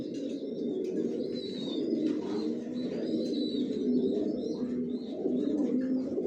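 Pigeons coo softly inside a new bedding loft: overlapping low, throaty calls run continuously, with a few faint chirps and wing flutters, all at a quiet, close distance and with no talking.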